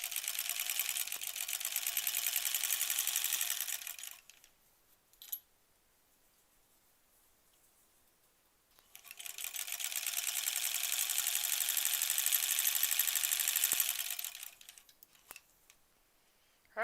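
A sewing machine runs two long stitching bursts along the last seam of quilt blocks, a steady fast whir separated by a few seconds of near silence.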